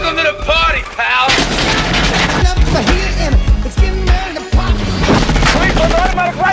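Henchmen fire on a man from tower windows in a Die Hard (1988) film scene, a loud dense barrage of gunshots and automatic fire with crashes, mixed with score and shouting voices.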